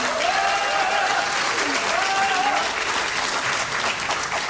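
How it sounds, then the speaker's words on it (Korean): Sustained enthusiastic applause from a large crowd at a Democratic Party joint campaign speech rally in South Chungcheong, dense and steady, with a voice briefly carrying over the clapping. "뜨거운 박수 다시 한 번 부탁드립니다"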